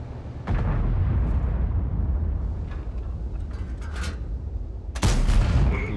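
Tank cannon fire in a video game, with a sharp boom at the start and another at the end over a continuous low rumble of engine and battle noise.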